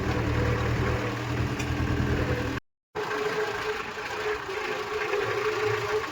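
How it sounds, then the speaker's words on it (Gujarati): A tractor engine idles steadily on a farm, a continuous low mechanical drone that runs through the clip, with one brief gap in the middle. "આ ટ્રેક્ટર છે પુનાભાનું"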